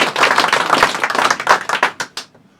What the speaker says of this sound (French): Et là, vous pouvez applaudir.